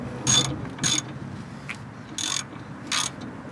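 Four short bursts of ratchet clicking come close up in a quiet garage as the upper ball joint on a car is tightened, each burst separated by a pause.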